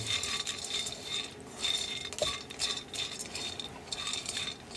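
Tiny peanuts tossed and stirred while roasting in a frying pan, a faint scattered rattle and clinking of hard nuts against the metal pan, coming in uneven waves with occasional louder scrapes.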